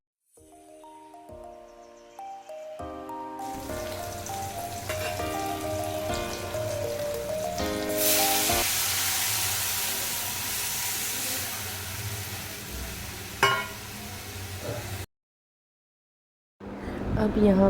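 Tomatoes frying in a pan for curry give off a steady, fairly loud sizzling hiss lasting several seconds over background music, then cut off abruptly.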